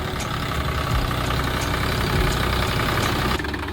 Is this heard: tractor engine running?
yes